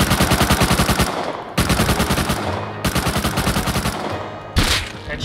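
Thompson submachine gun fire in the video game Rust, loud and close, with three long rapid bursts separated by short pauses and a final sharp burst.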